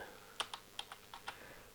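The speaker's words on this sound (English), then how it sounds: "I'm shift clicking them to select multiple clips" Light computer keyboard and mouse clicks while selecting clips in Adobe Premiere, about seven soft, close taps at an uneven pace over a faint background hiss, with no one speaking.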